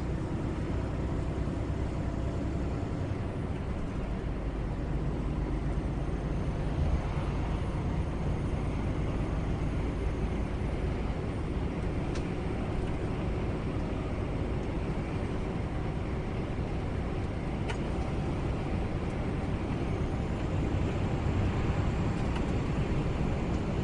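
Car on a motorway accelerating hard, a steady loud engine and road roar droning continuously for over twenty seconds with little change in level, heard from inside the cabin.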